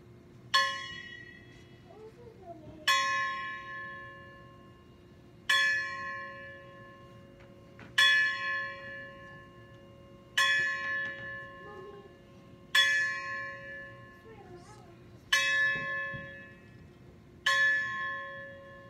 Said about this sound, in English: You have heard the tolling of 11 strokes.